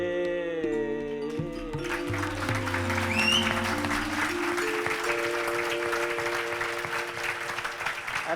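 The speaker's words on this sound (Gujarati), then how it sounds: "અને આ તમારી તાળીઓ આવે" An audience at a talk on old Gujarati stage songs breaks into sustained applause that swells in after a fading sung note and continues evenly throughout.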